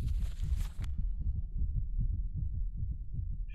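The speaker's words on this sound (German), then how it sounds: "ich höre ein Herzklopfen" Heartbeat in Minecraft, a steady run of soft low thumps pulsing evenly for several seconds, with a brief airy game sound fading out at the start.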